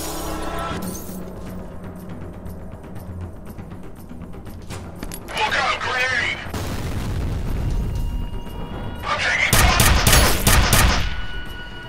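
Grenade blasts and gunfire in the shooter game F.E.A.R.: a low rumbling backdrop broken by two loud bursts of explosions and rapid shots, the second heavier and closer.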